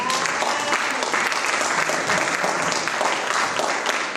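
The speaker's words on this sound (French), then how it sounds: "est-ce que tu peux acclamer le Seigneur?" A women's church convention congregation applauds for the Lord, with a dense, sustained burst of clapping from many hands. Scattered voices call out faintly beneath it.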